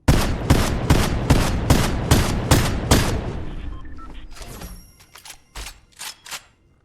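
Auto Frenzy shotgun with an 8-round speed mag in Fortnite, firing a fast string of about nine loud, evenly spaced blasts, then a run of mechanical reload clicks and clacks that fade toward the end.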